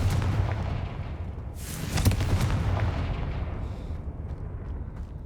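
A Confringo fire spell blasts in Hogwarts Legacy, a loud booming burst that rumbles on with crackling debris and a low roar, then slowly fades toward quiet.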